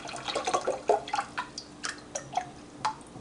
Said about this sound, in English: I'm going to just start pouring water in to see how much of my gallon gets in before I reach that full line.